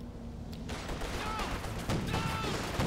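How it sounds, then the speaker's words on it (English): Flak Panzer anti-aircraft cannon fire in Company of Heroes 2, a dense burst of rapid overlapping shots and explosions in steady combat noise, with a faint voice in the mix. "Flak Panzer strikes once more."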